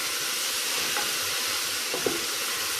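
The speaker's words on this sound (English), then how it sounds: "Now it's time to add all of our pepper and of course stir to get all of that oily goodness on here." Peppers and onions sizzle in hot oil as they are stirred, a steady close frying hiss with a couple of faint clinks of a utensil against the pan.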